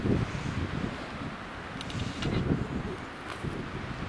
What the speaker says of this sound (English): we got some wind. It's just gusts